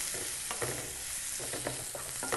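Mutton being mixed with salt in a frying pan for mutton korma, a low steady sizzle with repeated soft scraping stir strokes, close and without talk.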